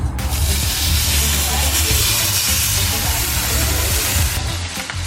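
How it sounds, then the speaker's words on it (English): Loud, broad sizzling hiss of steak searing in a hot pan, continuous and close, starting abruptly and easing slightly near the end. "Nice sizzle."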